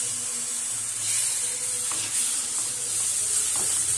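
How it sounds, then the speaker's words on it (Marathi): Tomato puree hits a pan of frying besan masala, giving a loud, continuous sizzling hiss with faint stirring scrapes running through it. "आता ह्यात आपल्याला हे टोमॅटो घालून घ्यायचं आहे, जी प्युरी केली आहे ती"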